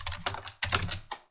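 Java code is typed on a computer keyboard in a few quick, close bursts of crisp key clicks separated by short pauses.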